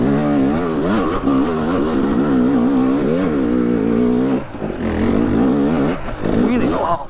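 A KTM 300 TPI two-stroke dirt bike engine lugging at low RPM, a loud, close, steady burbling drone with small wavering rises and dips in pitch and no hard revving.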